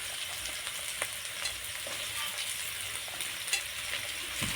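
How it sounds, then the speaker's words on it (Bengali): Chopped capsicum and carrots stir-fry together in a pan for homemade pasta, a continuous quiet sizzle broken by occasional light scrapes and stirring knocks. "ক্যাপসিকামটা গাজরের সঙ্গে এইভাবে একটু বেড়ে নিলাম।"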